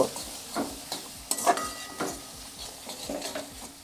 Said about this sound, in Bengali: আবারও মশলার সঙ্গে সমস্ত মশলাটা কষে নেব